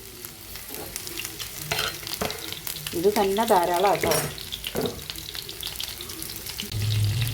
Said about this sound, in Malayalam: നമ്മുടെ ചിക്കൻ വെളിച്ചെണ്ണ കിടന്ന് നല്ല മൊരിഞ്ഞ് കണ്ടോ വന്ന് തുടങ്ങിയിട്ടോ